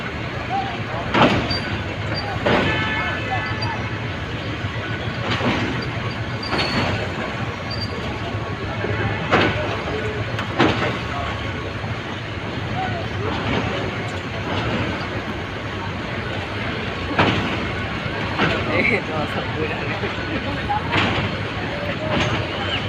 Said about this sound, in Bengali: এই যে গুড়াশাল ব্রিজের মধ্যে ট্রেন